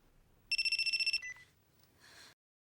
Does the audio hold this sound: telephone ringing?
yes